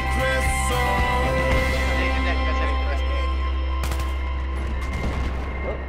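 Sniper gunfire in a first-person shooter video game: scattered shots with a sharper crack near the end, over a steady game soundscape with droning tones, amid hectic play.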